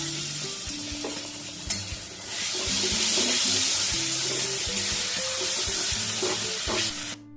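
Ground chilli and spices sizzling loudly in a pan after a splash of spice-rinsing water is added, with a steady hiss, stirring scrapes and clinks close by, ending in a sharp clatter.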